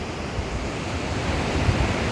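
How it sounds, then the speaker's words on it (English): Ocean waves breaking with wind blowing across an open natural shoreline, a steady broadband wash that holds loud and constant throughout with no voices. "you see these waves, you see the air blowing"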